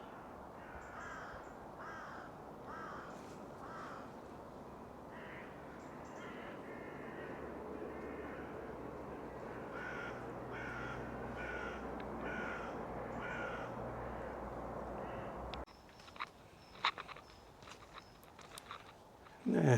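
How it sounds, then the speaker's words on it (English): Crows caw repeatedly across a country park, the calls moderately distant over a steady outdoor wash, with a few louder close rustles and knocks near the end. "There's a lot of bird noises."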